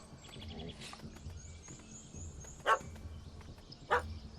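Two sharp dog barks in a Witcher 3: Hearts of Stone game scene, spaced about a second apart over a quiet ambient background, with a soft bird twitter earlier.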